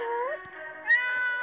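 A house cat meows a few times in quick succession, close and fairly loud, with rising and falling pitch and a brief rougher cry near the end.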